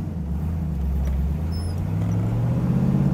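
A 1979 Pontiac Trans Am WS6 with a 4-speed manual rumbles steadily, its low drone rising in pitch as it accelerates away from a stop sign, with no talking.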